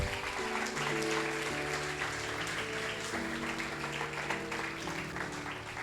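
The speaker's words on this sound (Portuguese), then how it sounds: "Aplauda Jesus." A church congregation claps together in sustained, even applause that rides over held keyboard chords, with no voices standing out.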